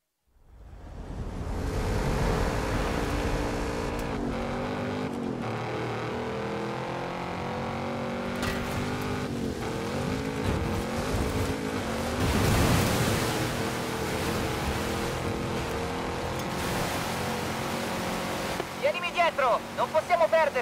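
Car engine droning steadily in the Forza Horizon 5 racing game during a jungle expedition, a loud sustained hum with rising and falling pitch, with voices talking over it.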